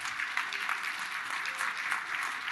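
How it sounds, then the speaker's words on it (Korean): Members on the floor of a Rotary district conference plenary session applaud to approve resolutions, a sustained, evenly dense round of clapping from a large crowd with no talking over it. "이 플로어에 계신 모든 회원들께서 박수로 결의문 채택을 승인해 주셔서 감사합니다"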